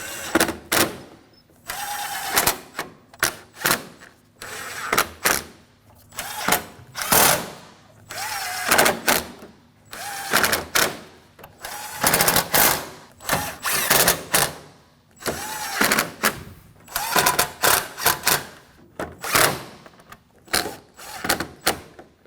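Grille support bolts being snugged down on a 2016-2022 Honda Pilot with a ratchet, heard as repeated rhythmic bursts of clicking pawl strokes, close and fairly loud, separated by brief pauses.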